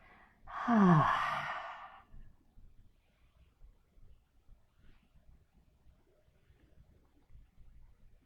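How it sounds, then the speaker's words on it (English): A loud, breathy exhale through the nostrils during a guided yoga breathing practice, one long sigh-like release near the start, then quiet for the rest. "maybe exhale with a loud sound"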